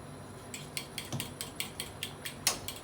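A whisk or fork beats an egg in a bowl, giving a steady run of quick, light clinks and taps against the side, close and fairly quiet, with no talking.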